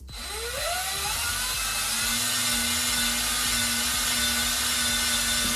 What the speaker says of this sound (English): get your drill, set it right on that hole, take it easy, go straight